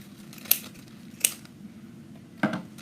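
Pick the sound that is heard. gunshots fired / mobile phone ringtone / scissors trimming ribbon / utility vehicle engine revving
scissors trimming ribbon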